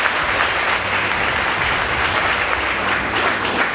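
An audience at a high school debate competition claps continuously, a thick, evenly sustained round of applause from many people with no voices rising above it.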